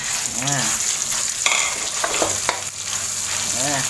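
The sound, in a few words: stir-frying chili paste in oil in a wok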